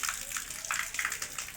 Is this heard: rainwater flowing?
yes